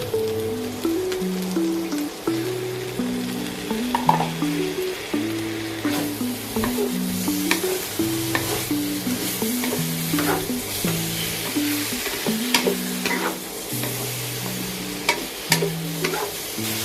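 Shiitake mushrooms stir-fried with luncheon meat in a hot pan, a steady sizzle with repeated scraping and stirring strokes of a spatula throughout, with faint background music.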